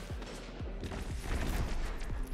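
Gunfire in Destiny 2 PvP, likely from the Recluse SMG, comes as a quick string of punchy shots at a moderate level, with no voices.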